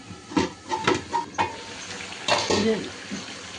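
A spoon stirs rooster curry in a cooking pot with soft scrapes and light metallic clinks. A denser rattle of pot and lid follows, all fairly quiet and close.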